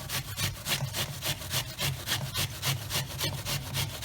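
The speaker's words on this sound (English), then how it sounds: "we'll start by grating one brown onion straight into a small bowl" A brown onion is grated into a small bowl in steady back-and-forth rasping strokes, about two per second, close and fairly quiet, with no voices.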